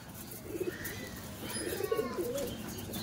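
Teddy pigeons coo in short, repeated low phrases, near and moderately loud, with a few soft chirps and a faint wing flutter in the background.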